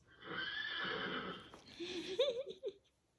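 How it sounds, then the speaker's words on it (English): A recorded pony neighs from an animal-sounds player, a long shrill whinny that wavers and breaks into shorter snorting bursts before fading to quiet. "A pony goes."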